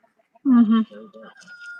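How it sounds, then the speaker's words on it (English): Ayam Cemani chicken on a Temecula ranch giving a loud, close clucking call with a strong harmonic burst, then quieter trailing clucks and a thin high tone. "This is the rarest chicken in the world."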